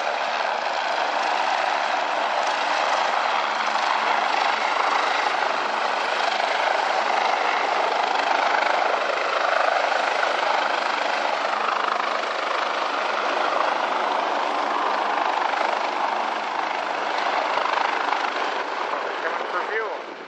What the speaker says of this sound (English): It's the emergency helicopter in Winnipeg.